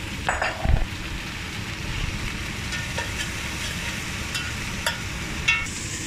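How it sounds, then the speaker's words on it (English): Peppers and celery fry in oil in a pan with a soft, continuous sizzle, broken by an early scrape and a few light clinks of stirring. "So now we're going to pop in our peppers and celery and stir them in."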